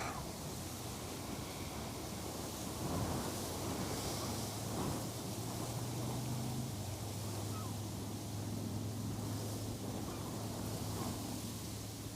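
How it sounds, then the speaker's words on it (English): Steady wind blowing outdoors on the bank of the Westerschelde estuary, a constant broadband rush buffeting the microphone for the whole stretch, with a faint low hum from passing shipping underneath. "Wind is picking up."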